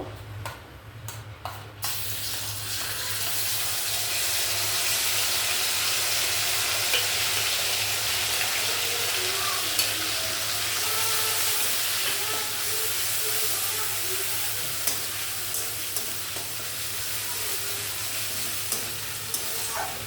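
Spices for potol posto sauté in oil in a pan, a steady, bright hissing sizzle with occasional soft stirring clicks, heard close over a faint low hum.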